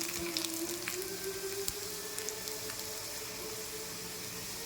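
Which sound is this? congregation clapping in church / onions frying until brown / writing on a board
onions frying until brown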